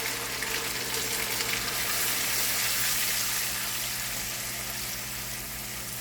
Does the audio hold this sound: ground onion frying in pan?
yes